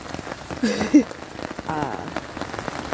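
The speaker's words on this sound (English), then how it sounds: "Right now it's just windy and pouring" Steady hiss of heavy, wind-driven spring rain falling on a surface during a backpacking trip, with a few faint indistinct voices murmuring in the background.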